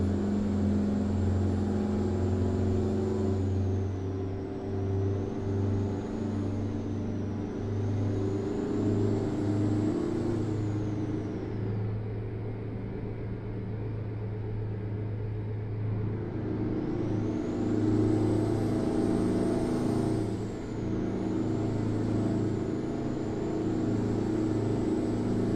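A Freightliner FLD truck cruises in American Truck Simulator, its engine giving a steady, low drone that swells and eases in pitch over about 25 seconds, heard alone with no talk.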